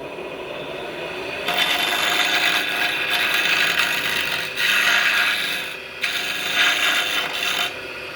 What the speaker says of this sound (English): I'm using the Thompson 5/8 inch bowl gouge with a drawn back grind just to square that, to round this out.